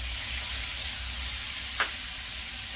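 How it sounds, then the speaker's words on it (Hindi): Ground spice paste is added to onions frying in a pan, giving a steady, moderately loud hiss of sizzling oil with one brief scrape partway through. "इसमें मैं जो मसाला पीस के रखी हूँ वो डालूंगी"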